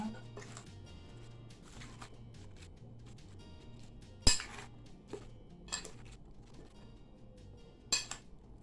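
Metal spoon clinks against a dish as ingredients are scooped in while cooking cauliflower, several sharp clinks spaced out over soft background clatter, no talk.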